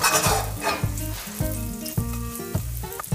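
Torn bread and English spinach fry in leftover salmon juices in a pan, a steady close sizzle with clattering stirring and scraping bursts over low background music, with no voices.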